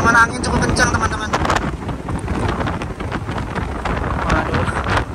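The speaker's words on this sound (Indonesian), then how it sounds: "Anginnya gede juga loh teman-teman" Strong seaside wind buffets the microphone in a continuous rough roar and rumble, with no clear pauses.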